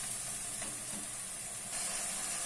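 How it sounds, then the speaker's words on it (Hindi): Chopped tomato and green chillies fry with spices in a pan for a desi-style arvi curry, giving a steady, soft sizzle and hiss throughout with no talking. "मसाले की भुनाई भी साथ होती जाएगी"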